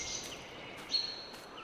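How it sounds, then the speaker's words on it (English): Custom ambient birdsong in the farming video game Farming Simulator 22, on the Calmsden Farm map: faint, thin chirps and short calls sit quietly in the distance over a soft background bed, with no talk. "there's the custom bird sounds in the background"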